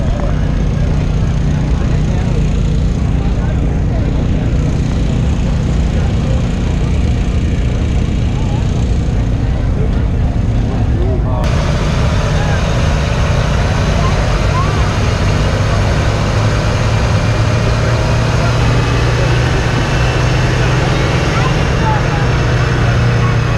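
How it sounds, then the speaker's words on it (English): A 1929 Ford Model T engine runs on a dyno, a loud, constant low drone that rises in pitch and intensity partway through as it is loaded up, with people talking over it. "So right now there's a 29 Model T. Yeah. On the dyno."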